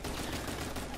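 Gunfire in the video game Uncharted during an online match, a dense burst of rapid shots that fills the moment loudly with continuous crackling blasts.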